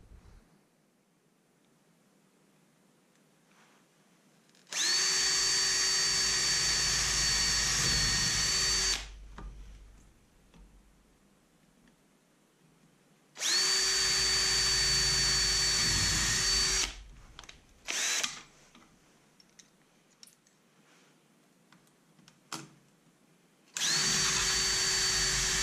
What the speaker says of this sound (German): mit einem 3 mm Bohrer vor und danach bohre ich sie dann mit einem größeren auf